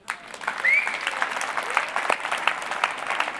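A church congregation clapping during a sermon: dense, lively applause from a large crowd with a brief whoop rising above it, sustained for several seconds.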